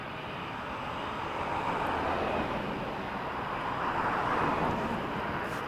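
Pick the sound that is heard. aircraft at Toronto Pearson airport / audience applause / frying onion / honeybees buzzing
aircraft at Toronto Pearson airport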